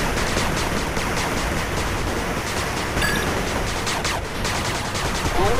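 Sustained machine gun turret fire from the 8-Bit Armies strategy game, a dense, continuous rattle of rapid shots filling the whole stretch at steady loudness with no talking.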